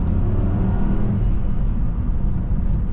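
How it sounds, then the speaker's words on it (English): A Porsche Cayenne Turbo 955 with a 4.5 V8 and six-speed Tiptronic gearbox kicks down and accelerates, a loud, steady, deep engine rumble and whir heard from inside, without talk. "if we do a kick down here"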